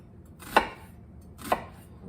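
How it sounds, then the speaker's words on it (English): Two crisp, evenly spaced knife chops as a sharp blade slices through an onion onto a cutting board, close and clear with quiet pauses between strokes and no talking. "So now I'm going to show you how I cut up my onion. So I'm just going to make slices in it"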